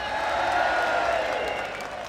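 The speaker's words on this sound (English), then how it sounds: "Give her a cheer!" A large crowd at a Leave Means Leave Brexit rally cheers and applauds in a dense, loud roar that swells and then gently tapers off.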